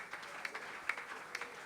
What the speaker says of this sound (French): Fais monter encore les offrandes d'acclamation.